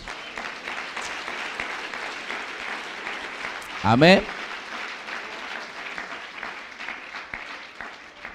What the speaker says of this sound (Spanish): ¿Quién le da un aplauso a este Jesús?